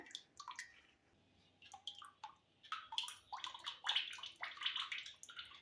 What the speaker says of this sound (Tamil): இப்போ நான் இதை பாட்டிலில் ஃபில் பண்ணிக்கிறேன்